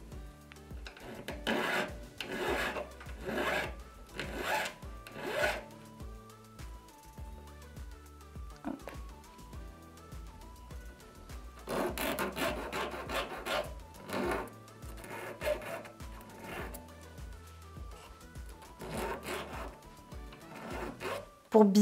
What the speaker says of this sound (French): On prend une lime aiguille et on vient mettre à plat